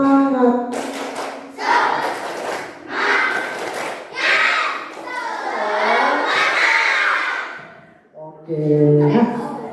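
Primary schoolchildren doing a rhythmic spirit clap in a classroom, bursts of group clapping and shouting in patterned sets, with an adult voice leading between rounds.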